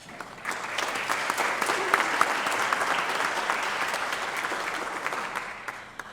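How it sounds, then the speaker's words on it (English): Warm audience applause at a chamber of commerce small business awards event, a continuous spread of clapping from a large crowd that rises quickly and stays steady throughout. "I think Michael deserves another round of applause."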